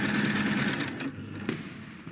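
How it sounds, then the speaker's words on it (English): Sewing machine from the bomb-defusal game Keep Talking and Nobody Explodes, a steady mechanical whirr running for about a second before thinning out into fainter, intermittent tones. "We obviously know what the sewing machine sounds like"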